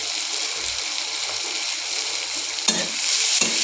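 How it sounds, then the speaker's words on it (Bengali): Mashed taro sizzles steadily in a hot pan after salt and turmeric go in, a continuous frying hiss with a few brief stirring scrapes near the end and no talking. "কিছুক্ষণ ভেজে নেব।"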